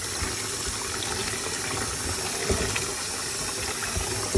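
Tap water runs steadily into a sink while a soap-washed item is rinsed, a continuous close splashing gush with a few brief louder spatters and no talking.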